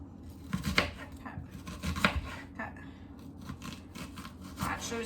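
A knife chopping onions on a board for crockpot southwestern chicken, a series of uneven close cuts, some sharper and louder than others, with no talk over them.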